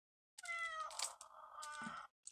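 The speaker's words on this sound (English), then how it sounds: "can you hear that cat?" Cat meowing indoors, one drawn-out faint meow followed by a second wavering cry, heard alone.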